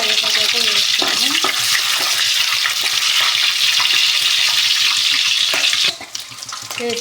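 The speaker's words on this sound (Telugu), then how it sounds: "వేసుకున్న తర్వాత పెట్టిన తర్వాత పచ్చిమిరపకాయలు, కరివేపాకు అయితే వేసుకున్నాను." Green chillies and curry leaves sizzle and crackle in hot oil in a pan, a steady close frying hiss with some stirring, easing briefly near the end.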